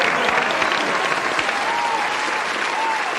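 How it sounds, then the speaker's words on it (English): A comedy crowd applauds continuously, a dense, even wash of clapping at steady volume throughout, with a faint voice audible beneath it. "Listen to that crowd."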